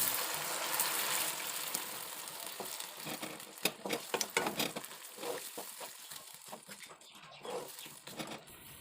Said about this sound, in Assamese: এয়া গুড়খিনি উতলিছে।